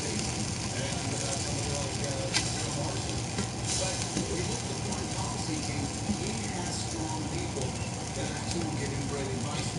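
An egg topped with ketchup fries in a pan, giving a steady, close, continuous sizzle with occasional faint pops and no break.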